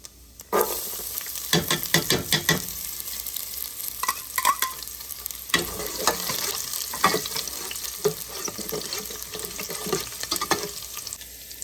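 Chopped garlic and ginger sizzle in hot oil with crackling cumin seeds, while a spoon scrapes and stirs the pan in repeated sharp strokes over a constant frying hiss.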